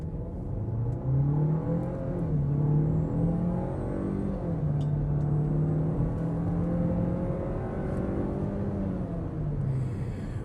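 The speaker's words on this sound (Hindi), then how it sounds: "अब अपन इसके इंजन की पावर को चेकआउट करने वाले हैं। So full throttle and let's go." A 2026 Nissan Tekton 1.3-litre turbo petrol SUV with DCT gearbox accelerates hard at full throttle, its engine note climbing steadily and loud in the cabin, with rising and falling pitch through gear changes over road rumble.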